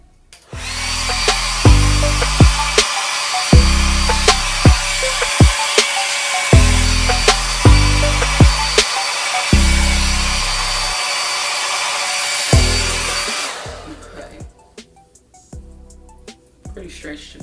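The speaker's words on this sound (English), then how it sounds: "Grab my blow dryer." A hair dryer runs steadily for about thirteen seconds while hair is being styled, a loud broadband whoosh with repeated short clicks and handling bumps, then cuts off to quieter room sound.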